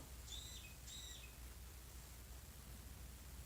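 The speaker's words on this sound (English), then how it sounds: "There's a freaking bird chirping loudly out there." Two short bird chirps ring out early, clear but somewhat distant, over a steady hiss of background noise, then only the hiss continues.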